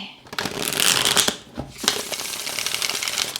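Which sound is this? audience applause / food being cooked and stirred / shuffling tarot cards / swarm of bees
shuffling tarot cards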